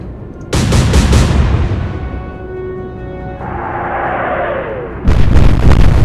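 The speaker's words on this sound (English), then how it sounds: "heavy explosions, landing all 3 of her shells into Exeter" Heavy booming naval shell explosions go off in two bursts with a whistling, ringing tail between them, loud and close, in the naval warfare game Atlantic Fleet.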